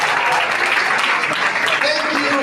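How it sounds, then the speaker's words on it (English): A university audience breaks into loud, dense applause, a steady roar of many hands clapping close to the microphone for a couple of seconds with a few crowd voices mixed in. "Please, can we give a round of applause?"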